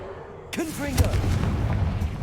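The Confringo blasting spell in Hogwarts Legacy fires with a whooshing, wavering cast, then a loud explosive boom about half a second later, leaving a rumbling crackle that trails off.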